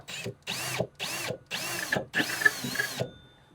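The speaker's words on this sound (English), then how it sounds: "you want to drill it backwards a little bit" A power drill running in reverse whirs in five short bursts separated by brief pauses, close up, with the motor pitch rising and falling.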